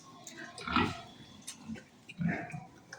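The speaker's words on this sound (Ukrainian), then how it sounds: "Ось такі поросята." Piglets grunt in two short bursts close by, low snuffling snorts separated by a brief pause, fairly quiet overall.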